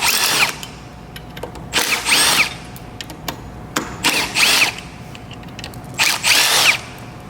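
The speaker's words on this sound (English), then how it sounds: "We're just gonna take the 4 bolts out of the gooseneck here to let the handlebars drop down." A power driver fitted with a 5mm Allen bit backs out gooseneck bolts on an electric scooter, whirring in three or four loud close bursts of about a second each, with quieter pauses between.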